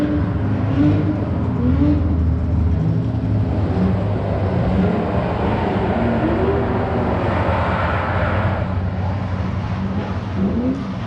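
A drift car whips through a 360 at a Halloween open drift contest at Evergreen Speedway, its engine roaring loud and steady on the limiter with rising and falling revs and tire noise throughout.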